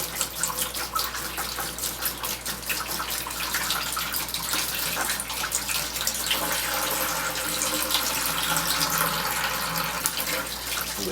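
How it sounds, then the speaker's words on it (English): Hot beer wort for an all-grain Irish stout is siphoned through a mesh strainer into a vessel, a steady close splashing pour like a running tap that continues unbroken throughout, with no talk. "I always run mine through the mesh strainer here. It helps catch all those hot particles as well as aerates the wort"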